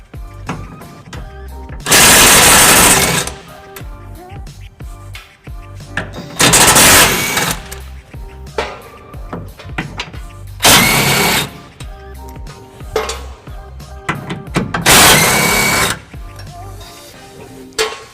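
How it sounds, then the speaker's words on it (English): A power tool, likely an impact wrench, removes 17mm bolts on a 2010 Nissan Titan during trailer hitch installation, firing in four loud bursts of about a second each with quieter clinking and handling between them. "We'll be using our power tool right here to be taking those off."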